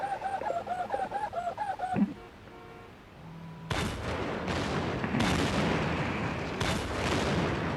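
A robot shooting bullets and blowing up in the video game Vegas Crime Simulator: after a burst of game music, a loud run of rough, crackling gunfire and explosion bursts fills the rest, with no speech.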